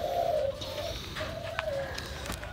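Doves of a multi-coo breeding pair, a four-coo female and an eight-coo male, give soft low cooing calls in a steady rhythm, close and alone.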